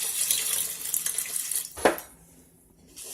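Water runs from a kitchen tap into a cup for a cooking recipe, a steady hissing stream for almost two seconds, then a brief clink before the flow stops and quiet follows.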